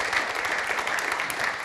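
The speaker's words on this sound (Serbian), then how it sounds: "Malo veći aplauz, molim vas, za ovako velike zvezde." Steady, dense audience applause fills a television studio, loud and continuous throughout with no talk over it, many hands clapping at once in a sustained even roar.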